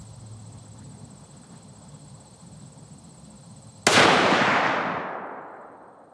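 A single sharp rifle shot cracks out close and loud over a quiet outdoor background, with a long rolling echo fading over the next couple of seconds, fired while sighting in a new firearm at 25 yards.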